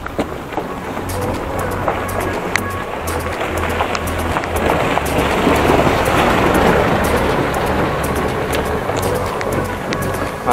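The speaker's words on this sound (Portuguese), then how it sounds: "vai ver mais ou menos aonde a chuva pegou a gente aqui. E agora pegou com força, que agora veio bem forte." Heavy rain pours down during a hike from Vale das Videiras to Secretário, a dense steady hiss with wind and rustling, swelling louder midway, close to the listener.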